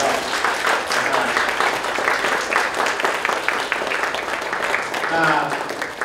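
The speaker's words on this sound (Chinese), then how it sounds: "我们再掌声送给我们的张教授" An audience at an entrepreneurs' lecture applauds Professor Zhang, with steady, dense clapping throughout and a voice talking over it.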